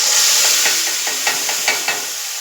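Fenugreek seeds and asafoetida sizzling in hot oil, a bright crackling hiss with quick popping spurts that fade gradually, close and loud with no talking.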